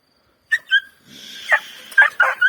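Several village dogs give sharp barks and yips, a couple of quick barks and then a burst of overlapping barking, close and loud against a quiet background.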